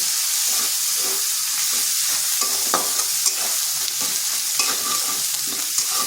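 Ginger paste fries in oil over low heat, giving a steady close-up sizzle and hiss with occasional spatula scrapes and taps from stirring, and no voices.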